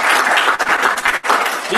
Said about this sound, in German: Und Applaus für uns.